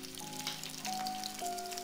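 Sliced green chillies fry in hot tempering oil over a medium flame while making Kasuri methi potato fry, giving a soft, steady sizzle and crackle, faint and close.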